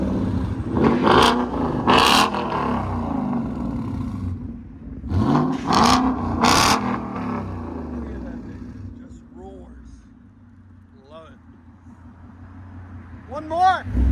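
A Ford Mustang GT with an aftermarket exhaust revs in sharp bursts, three loud blips early on, then settles to a rumbling idle with a few lighter revs near the end, while people talk over it.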